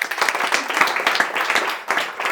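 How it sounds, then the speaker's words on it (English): Audience applause in a room, a steady dense wash of many hands clapping close by, loud and continuous throughout with no talk over it. "They will give you a big round of applause."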